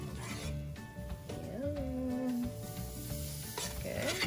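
Gnocchi with spinach being stirred in sizzling butter in a pan, a soft steady sizzle with scraping and rubbing strokes of the utensil, close and quiet, with a faint tonal squeak partway through.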